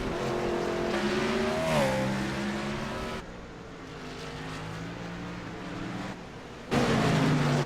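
NASCAR stock cars race at Sonoma, their engines droning loudly as they pass at speed; the sound drops to a lower roar midway, then another car surges in close and loud.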